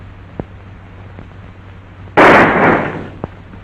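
A single loud gunshot cracks out in an old western film, a sharp burst that fades over about a second. Faint ticks and room tone come before and after it, and nobody speaks.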